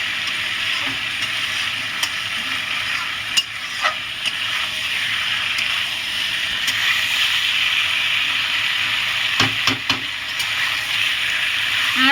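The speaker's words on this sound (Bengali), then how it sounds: "কষিয়ে নেবো আলুটা দিয়ে" Fried potatoes being stir-fried with country chicken curry in a pan: a steady, fairly loud frying hiss throughout, broken by occasional clatters and scrapes of the stirring utensil, close and without talk.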